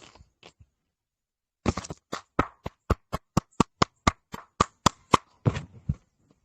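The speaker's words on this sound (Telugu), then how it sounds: "ఒకసారి గట్టిగా చప్పట్లు కొడదాం సార్ మన పీవీసీ మెటా సిస్టమ్కి ప్లీజ్ అందరూ." A small group claps in rhythm, about a dozen and a half evenly spaced sharp claps close by, preceded by a few faint taps and then silence.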